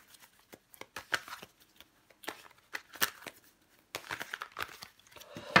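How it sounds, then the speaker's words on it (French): Tarot cards rustle, slide and tap softly as they are handled and laid out one by one in irregular bursts, close and quiet, with no voices. "On recouvre des cartes pour vous, les Sagittaires."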